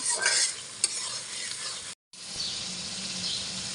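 Onions and prawns sizzle and crackle in a hot pan while a utensil scrapes and stirs them, with a brief cut partway through.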